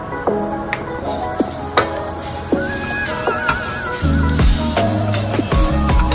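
Grated coconut roasting in a pan for a village-style breadfruit curry masala, giving a steady dry sizzle with repeated scraping stirs and occasional clinks of a utensil, close and fairly loud, with no talk.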